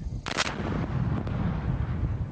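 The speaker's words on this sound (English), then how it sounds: "This test explosion of a real bomb by police played in court showed a jury what the chief says was the real intent" A real bomb detonated by police in a test explosion, made from ammonium nitrate, goes off as a single sharp blast followed by a long rumbling roar that fills the rest of the moment, with no voices.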